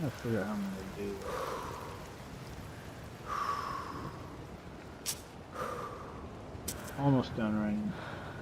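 Continuous rain pattering in the video game Cairn, a soft steady hiss with occasional short breathy grunts and small clicks over it, fairly quiet throughout.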